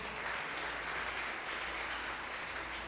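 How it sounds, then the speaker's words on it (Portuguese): A church congregation claps for the Lord during a worship service, producing a steady, even wash of applause heard from a moderate distance, without voices on top. "Você pode aplaudir o Senhor?"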